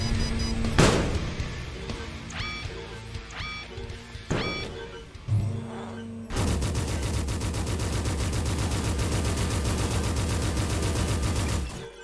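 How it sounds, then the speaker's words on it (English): Plasma rifle fire in a video game: a few sharp separate shots with ringing tails, then a long rapid stream of fire running for about six seconds before stopping abruptly, loud and close. "Oh, this is a very sexy plasma rifle."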